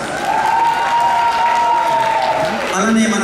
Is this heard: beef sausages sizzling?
no